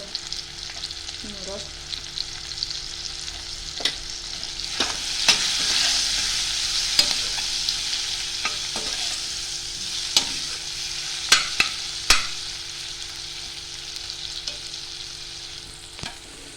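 Turmeric and asafoetida sizzle steadily in hot oil in a tempering for dal palak, with sharp spoon clicks and stirring scrapes over the continuous frying hiss.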